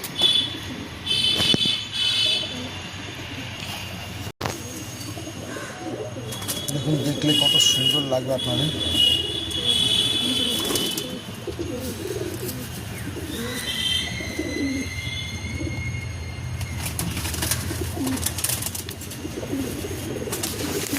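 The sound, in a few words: pigeons cooing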